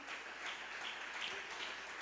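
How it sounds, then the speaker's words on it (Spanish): Congregation clapping at a Spanish-language devotional church service, a steady broadband patter of applause held evenly at low level throughout with no pauses. "Dele una ofrenda de palmas al Señor."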